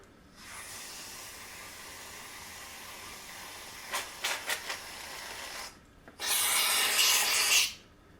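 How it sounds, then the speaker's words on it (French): A shaken can of chantilly whipped cream hisses steadily, stutters with a few short spurts, then lets out a louder, airy final blast near the empty end. "Une fois cela fait, vous pouvez rajouter de la chantilly. Secouez au préalable."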